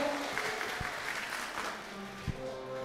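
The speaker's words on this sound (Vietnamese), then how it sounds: "Hãy cho chúng ta một tràng vỗ tay thật lớn được không ạ?" Gala audience at a Hanoi company event applauding, a soft, steady wash of clapping heard from a distance with a couple of louder claps standing out.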